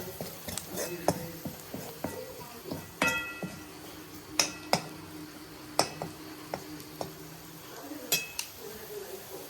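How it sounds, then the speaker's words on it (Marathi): Roasted masala being sautéed and stirred in a pan for a Konkan forest-vegetable dish, with a utensil scraping and clinking against metal in irregular taps while someone talks over it. "हा भाजका मसाला आपण आता हा वापरला आणि हा चांगला आधी आता परतून घेऊया चांगला"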